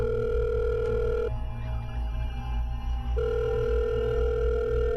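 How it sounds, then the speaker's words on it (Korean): A telephone ringback tone sounds on a call placed from a public phone booth, a steady near tone that breaks into a pause and then resumes, with no talking. "한 5번 정도 통화음이 울렸을까?"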